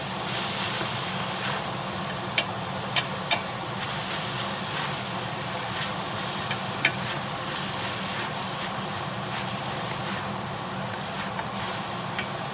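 Oregano and herbs stirred in a steaming soup pot with mushrooms, giving a steady loud hiss with a few faint scraping clicks throughout.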